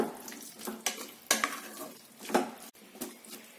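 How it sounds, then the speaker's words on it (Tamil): Bottle gourd and water are stirred in a pan for sambar, with several scraping, clinking strokes of a spoon against the pan and a wet sloshing between them, close and fairly loud. "தண்ணி சேர்த்துட்டு ஒரு டைம் லைட்டா கலந்து விட்டுடுங்க"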